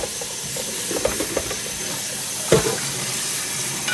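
Running tap water hisses steadily into a sink while milkfish (bangus) is rinsed with salt for fermented fish, with a few soft splashes and handling knocks close by.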